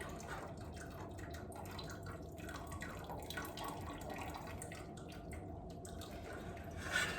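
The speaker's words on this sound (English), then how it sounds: "Let that drain." Whey from farmer's cheese curds drains through gathered cheesecloth, a faint, steady trickle with soft drips, quiet and uninterrupted.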